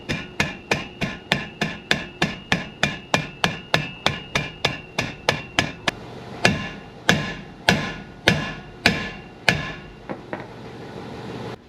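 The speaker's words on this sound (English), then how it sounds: "this rotor's somewhat stuck, and the best place to hit it is right here between the studs" Hammer blows strike a stuck brake rotor on a 2013-18 Ram 2500-3500 truck, about twenty sharp metallic impacts in a steady rhythm that slows and spaces out toward the end, close and loud with no voices.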